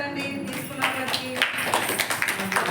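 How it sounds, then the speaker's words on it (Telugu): Preschool children in a class clap together in short bursts of scattered, light hand claps, with a voice speaking over them. "వీళ్ళకి క్లాప్స్ కొట్టండి తీసుకున్న వాళ్ళకి"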